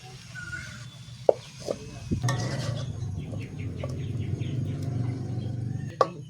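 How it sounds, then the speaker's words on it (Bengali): Kochur loti curry is spooned from a pot into a bowl, giving a few sharp metallic clinks and wet scooping sounds over a steady low background hum. "তরকারিগুলি এখন আমি বাটির মধ্যে বাইরে নিতেছি।"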